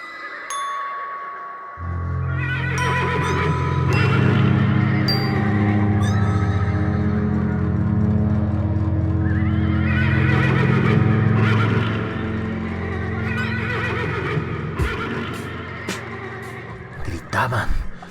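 Horses screaming in terror from below in a horror audiobook sound effect, a loud sustained wail of shrill cries over a dense low rumble, swelling and fading across the scene.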